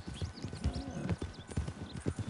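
Horse hooves clip-clop in Red Dead Redemption 2, a quick, even trotting rhythm up close and fairly loud, with no talk over it.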